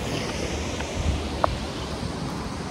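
A rare waterfall at Fateh Jhang, heard as a steady, broadband rush of falling and flowing water, continuous and fairly close, with a faint wind-like hiss and a brief small knock partway through.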